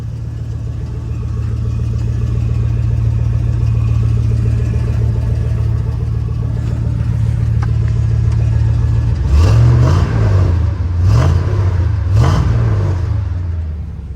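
An LS-swapped engine in an OBS truck on a cold start, heard as a loud, steady, deep exhaust drone that turns into several rising and falling revs near the end.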